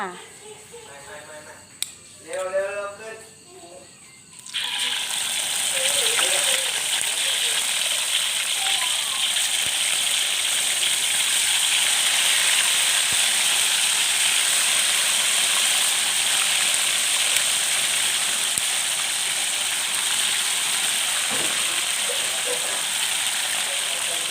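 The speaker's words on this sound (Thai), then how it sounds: "ตั้งกระทะทอดไก่ต่อเลยค่ะ" Steady hiss and crackle of chicken frying in hot oil in a pan, continuous and fairly loud after a brief stretch of speech at the start.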